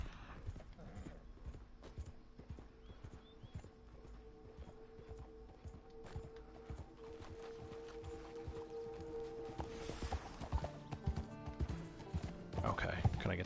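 Horse hooves clop in an irregular rhythm while riding in Red Dead Online, faint under steady game ambience, growing busier and louder near the end.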